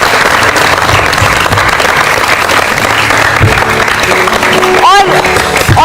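A crowd gathered to cheer during the 2023 Cricket World Cup applauds the bowlers, a loud, continuous roar of clapping with a brief whistle or shout rising near the end.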